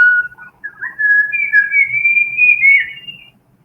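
A clear, high whistled song rises and wavers in one continuous melodic phrase, close and alone, with no other sounds.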